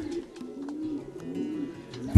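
Young pigeons coo softly in a pigeon loft, low soft burbling calls overlapping in a gentle, continuous murmur, close by and fairly quiet, with no talking.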